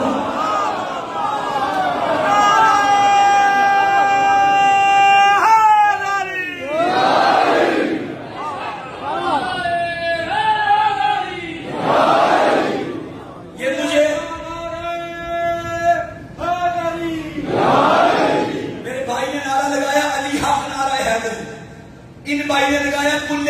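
A crowd at a Muharram majlis chants the Nara-e-Haidari slogan in loud, repeated call-and-response bursts, voices swelling together and fading between each shout.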